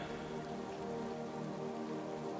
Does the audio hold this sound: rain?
yes